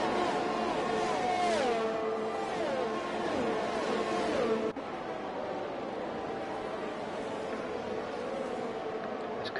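Race cars lap a track in a racing video game, engines whining and sweeping through gear changes as they pass, a busy layered roar that cuts to a lower, steadier drone partway through.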